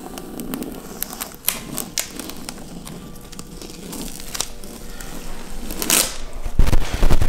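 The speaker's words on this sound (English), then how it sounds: "I'm gonna peel off the masking at 180 degrees." Masking film is peeled off a tint applied to a VW MK2 Tiguan headlight, close up, with crackling, crinkling tears and sharp snaps that grow louder toward the end.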